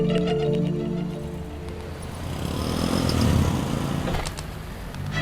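An auto rickshaw's small engine putters at idle, then its drone rises and swells as it pulls away, fading near the end.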